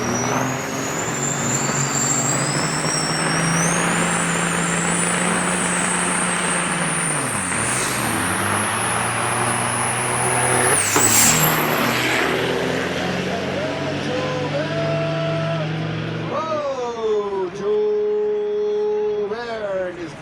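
Heavy big rig truck engines, including a Ford LTL 9000, roar and drone steadily at Onaway Speedway, revving up and down through gear changes, with a loud announcer voice talking over the racing noise.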